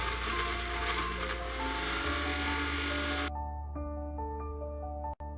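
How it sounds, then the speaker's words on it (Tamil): Electric blender grinding ginger, garlic and green chili into a paste: a loud, steady motor whir with gritty churning that shifts pitch partway through, then cuts off abruptly, leaving a quieter hum and a short click. "இது எல்லாத்தையும் நல்லா பேஸ்ட்டாக அரைச்சிக்கலாம்."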